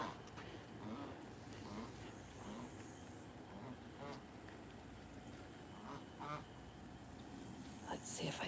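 A goose honks in an outdoor setting, a few scattered honks fairly far off within a steady wash of background noise, faint rather than prominent.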